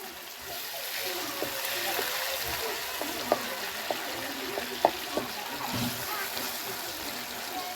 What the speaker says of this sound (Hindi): अब इसे अच्छी तरह से भून लेंगे।